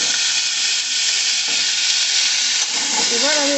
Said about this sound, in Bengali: আমি এই আমড়াগুলোকে একে একে তেলের মধ্যে তুলে দিচ্ছি